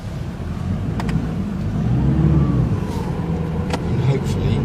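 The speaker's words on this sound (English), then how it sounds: "We're going to need 4-wheel drive, put it on 4 low" A four-wheel-drive vehicle in low range grinds through mud, its engine a low, steady drone that swells slightly mid-way, with faint clicks and splashes.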